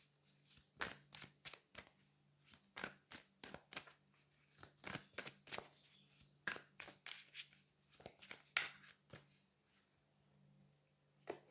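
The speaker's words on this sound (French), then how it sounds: "vous m'avez entendu mélanger" Tarot cards being shuffled by hand give a long series of crisp, close riffling snaps in an irregular rhythm over a quiet steady hum, with no voices.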